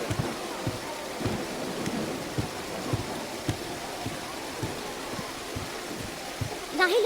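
Steady rain pours down with a continuous wash of noise, soft low thumps scattered through it, and a faint whistle-like tone near the end.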